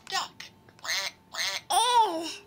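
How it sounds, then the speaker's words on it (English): Short nasal quacks from a children's animal sound book repeat with pauses between them, followed by a longer drawn-out quack, close and fairly loud with little background. "You think the quacky sound is a yucky sound?"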